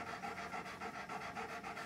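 A dog pants in the heat in Odesa, rapid rhythmic breaths at about four per second, close and clear, steady throughout with no talking.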